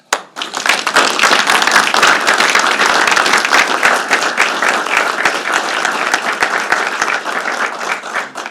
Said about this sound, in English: Please join me in giving Steve a round of applause